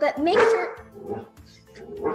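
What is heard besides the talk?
dog barking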